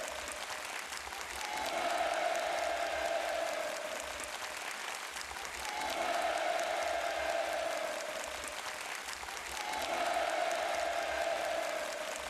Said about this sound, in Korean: 전체 관람자들은 우렁찬 환호를 올리면서